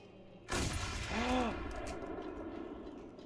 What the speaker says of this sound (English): I heard the gun too.